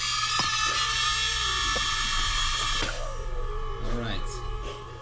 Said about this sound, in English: Calm yourself. While I hammer your leg.